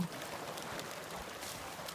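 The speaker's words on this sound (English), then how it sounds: "This water is running." Running water of a stream alongside Starr Trail gives a constant, even hiss and rush, moderately faint and unbroken, with no one speaking.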